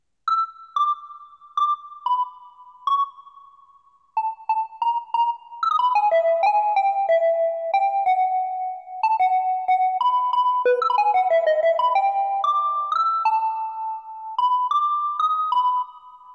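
A clean, bell-like synthesizer tone plays a slow melody of sustained notes, starting with short plucked blips before gliding into longer held tones.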